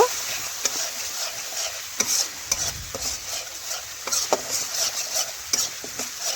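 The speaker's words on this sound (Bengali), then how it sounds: "এই দেখুন এইভাবে 2 থেকে 3 মিনিট সময় নিয়ে মশলা আমি ভালোভাবে কষে নিয়েছি" Spice masala being stir-fried in a pan for a vegetarian dal meal, a constant hiss of sizzling oil broken by regular scraping and tapping strokes of a spatula against the pan, close and clear.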